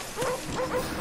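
A dog in the video game Call of Duty: Black Ops gives a few short yips and barks in quick succession over the constant din of gameplay.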